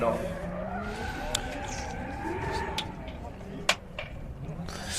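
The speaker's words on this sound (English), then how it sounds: "we see Dermot just finishing off the warming of the tyres with a huge rolling burnout up to the start line" A drift car does a rolling burnout up to the start line at a drift championship round at Teesside, its tires squealing and skidding with a brief sharp crack, heard from a distance while a commentator talks.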